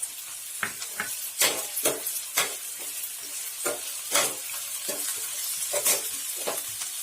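Onions with rock salt sizzle steadily in a hot pan while a spoon scrapes and stirs in irregular bursts. It is close up, with no talking.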